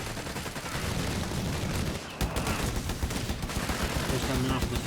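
Machine gun team firing in the video game Company of Heroes 3: dense, continuous rattling bursts of gunfire amid battle noise and distant booms, with a brief gap, and a commentator talking over it.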